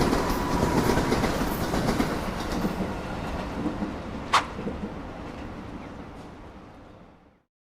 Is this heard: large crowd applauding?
no